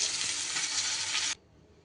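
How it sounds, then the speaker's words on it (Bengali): Pointed gourd fries in hot oil with a loud, dense sizzling hiss that cuts off abruptly after about a second and a half, leaving only faint room noise. "পটল কিন্তু আমার ভাজা হয়ে গেছে।"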